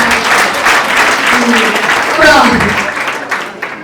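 Wedding guests clap at a family celebration, a dense, steady applause that fills the clip from start to finish. Voices and singing carry over the clapping throughout.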